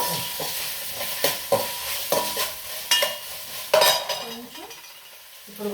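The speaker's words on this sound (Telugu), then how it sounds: "క్యారెట్ ముక్కలు, టమాటా వేసి వేపాలి." Carrot pieces and tomato stir-fried in a pan while making Telangana-style bagara rice, with a steady sizzle broken by repeated scraping spoon strokes against the pan. No voices are heard.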